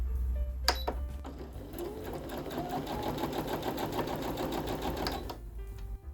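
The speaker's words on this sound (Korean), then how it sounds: "노루발을 내리고 미싱 전면부에 있는 자동 시작 멈춤 버튼을 눌러줍니다." A Brother electronic sewing machine is started by its button and stitches at a fast, even, rattling pace for several seconds, close and clear, with a click at the start and a stop near the end.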